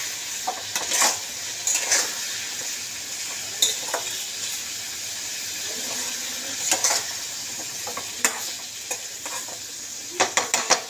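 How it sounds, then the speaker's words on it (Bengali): Brinjal with spices sizzles steadily in a pan while a utensil stirs and scrapes against the metal in irregular bursts, close and continuous with no talking. "তো এটাকে এবার কষে নিতে হবে"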